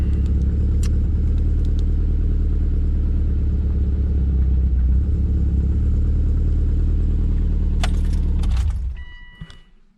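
A loud, roughly 400 WHP Subaru WRX exhaust rumbles at idle on a drag day, a heavy, continuous low drone that dominates up close before cutting off and fading at the end.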